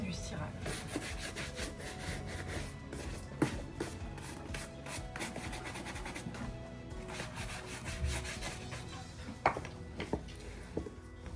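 A brush rubs polish onto leather boots in repeated close back-and-forth strokes, faint and scratchy, with a few light knocks in between.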